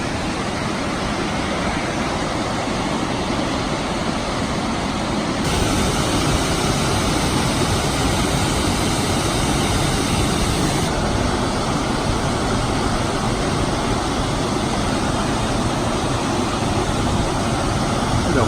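Burney Falls waterfall in California roaring in a steady, dense wash of falling water, loud and close, continuous without pause and growing slightly stronger partway through.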